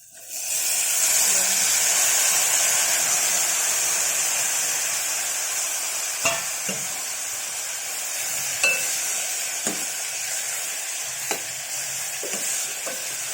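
Finely chopped tomatoes frying and sizzling in a pan for coriander tomato rasam, a steady bright hiss with occasional clinks and scrapes of stirring, close and continuous.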